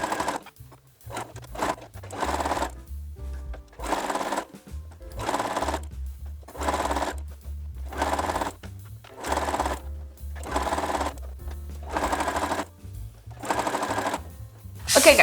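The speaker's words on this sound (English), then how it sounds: "now we'll be sewing on both the lines and I will be chain sewing these" A sewing machine chain-sews pairs of quilt blocks for a rail fence pattern in repeated loud bursts of rapid stitching, about eight runs separated by short pauses, with someone talking quietly during the gaps.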